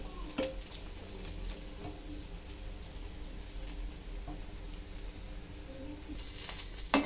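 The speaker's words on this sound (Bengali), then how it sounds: "ডিমটা অনেক ভালো ফুলছে।" An egg sizzles and fries in a hot pan as it puffs up, a steady low crackle running on without break, with a brief louder clatter near the end.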